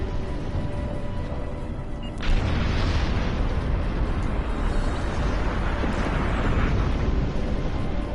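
Grenade blasts boom through a Star Trek Online battle, with a heavy, sudden explosion partway in and another later, over a dense, constant roar of game noise.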